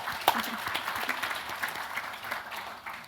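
A seated audience applauds a speaker at a panel discussion on the election and the biopharma industry, a steady wash of many hands clapping for about three seconds with a slightly sharper clap near the start.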